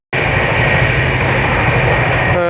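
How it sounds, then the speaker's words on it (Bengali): Sealdah–New Delhi Rajdhani Express running at about 130 km/h, a loud continuous rumble and rushing roar heard from inside the train, steady throughout with no voices. "ফাইনালি এখন ট্রেন একদম পুরো 130-এ ছুটছে"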